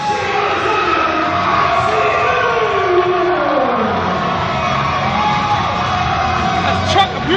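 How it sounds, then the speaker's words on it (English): A college wrestling crowd roars and yells wildly after a surprise pin, a dense sustained wall of cheering and whooping that stays loud throughout, with shrill rising yells near the end. "And this crowd is going wild!"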